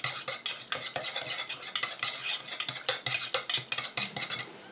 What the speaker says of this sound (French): je mélange pour faire dissoudre la poudre